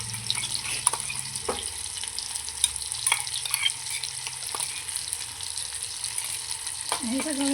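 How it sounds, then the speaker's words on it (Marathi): Spinach puree with garlic paste frying in a pan for tiranga pulav, giving a steady bright sizzle with occasional stirring scrapes and taps, close and continuous. "ह्याला एक पाच मिनटं भाजून घेऊया"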